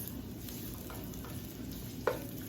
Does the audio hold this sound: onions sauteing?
yes